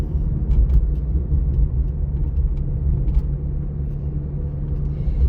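A car drives steadily along a road during a practical driving exam, giving a continuous low engine rumble and tyre noise with no talk over it.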